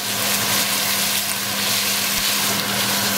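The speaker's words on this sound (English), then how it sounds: "we're gonna saute our onions in a little bit of vegetable oil" Chopped onions sauté in vegetable oil, a steady dense sizzle of frying with a faint low hum beneath, close and continuous throughout.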